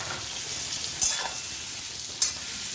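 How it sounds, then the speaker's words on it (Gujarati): Raw mango pieces are stirred with turmeric in a frying pan with a spatula, a quiet steady sizzle broken by two brief scraping clinks of the spatula against the pan. "હવે તવેથાની મદદથી બરાબર હલાવી અને જે કેરીના ટુકડા છે એ આપણે એમાં ઉમેરીશું"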